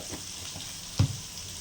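Onions and green chillies fry in oil for semiya upma, a soft, even sizzle close by with one brief clunk of a utensil partway through.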